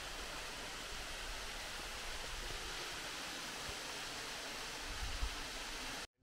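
A stream still running strongly, producing a steady, even rush of flowing water with no breaks, moderately close and continuous until it cuts off abruptly at the end.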